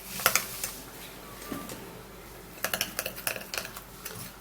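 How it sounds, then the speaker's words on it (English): Gram flour being stirred in a small bowl with a spoon for a face remedy, giving close, quiet clicking and scraping taps in irregular bursts, with a near-silent pause in the middle. "I'm going to be putting in 1 teaspoon of gram flour, and then I will stir,"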